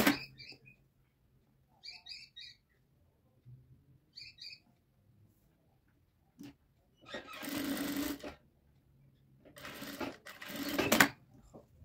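A sewing machine stitches a shirt cuff in two sustained, close whirring runs. Earlier, faint bird chirps are heard in short bursts.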